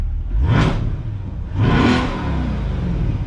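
A C8 Corvette with an aftermarket exhaust, performance mode unlocked, is revved twice in quick succession, each loud, close blip rising sharply and dropping back to a rumbling idle between them.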